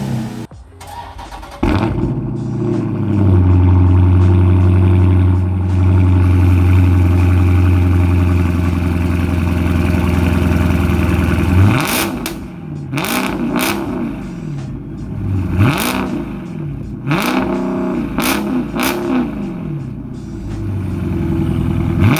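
A 2018 Dodge Charger Scat Pack with its mid muffler deleted cranks and starts with a loud bark, settles into a deep rumbling idle, then gets several sharp revs that rise and fall back to idle, close and loud.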